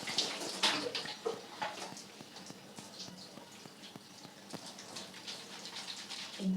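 Water from a tap splashes steadily while hair-dye foam is rinsed out of hair, a soft continuous patter and trickle heard close up and fairly faint, without speech.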